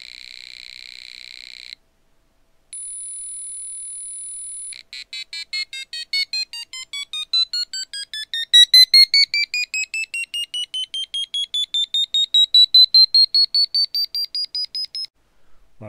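A small speaker driven by an Arduino's tone() function emits electronic tones, first steady beeps, then a long run of rapid pulsed chirps that sweep slowly upward in pitch, heard clearly and close with no talking.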